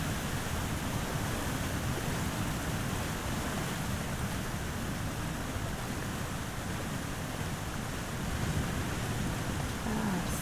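Strong wind blowing in The Long Dark video game, a steady broad roaring rush that never lets up, loud and even with no voices.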